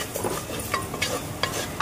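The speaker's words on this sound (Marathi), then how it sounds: "हे आता मसाला, गरम मसाला वगैरे मी परतून घेते आधी." Garam masala and chicken masala frying in a clay pot while being stirred, a soft sizzle broken by several scraping strokes of a spoon against the pot.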